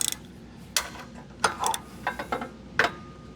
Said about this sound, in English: That's the socket. And that's the nut moving.